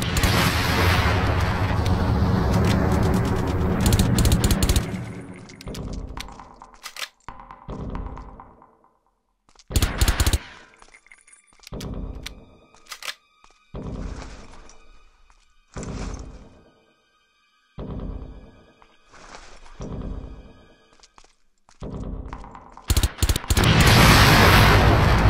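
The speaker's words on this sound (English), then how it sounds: "That's a pretty big kaboom" A big explosion in the video game Far Cry: loud, heavy blasts open and close the stretch, with shorter sharp bursts and quiet gaps between them.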